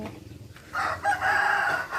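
A rooster crows close by at a village wedding preparation in rural Thailand, one loud drawn-out call rising after a brief quiet moment, with no talk over it.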